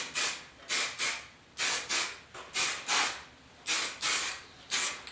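Short bursts of primer sprayed from a new aerosol can onto a 1972 Ford air cleaner, about ten hissing puffs in an uneven rhythm with brief pauses between, close and moderately loud.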